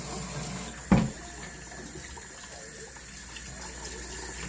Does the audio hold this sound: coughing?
no